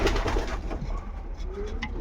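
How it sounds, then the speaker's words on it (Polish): Long-distance racing pigeons coo softly inside a loft, with low, rolling calls at a moderate distance among faint rustling and background noise. No one is talking. "Tu są 2 gołębie na długi dystans, typowy długi dystans"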